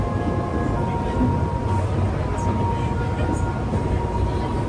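Nankai Gran Tenku tourist train rolling along rails toward Mikkaichicho Station, a steady low rumble and hum from inside the car with faint background music, continuous and even throughout.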